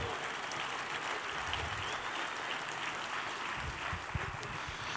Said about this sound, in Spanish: denle una fuerte ofrenda de aplausos pues al Señor